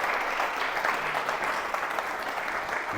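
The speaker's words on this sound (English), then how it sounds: "Can we give a big round of applause for Don and for Eric?" A room of people applauding Don and Eric at a book launch where Sheffield Blitz survivors share their stories, with even, moderately loud clapping that continues steadily across the whole stretch.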